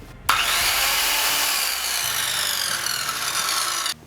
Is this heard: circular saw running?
yes